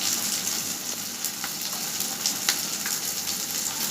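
Chicken masala with green chili paste, onions and spices frying in a pan gives a steady, close hiss of sizzling oil with faint crackles throughout and no talking.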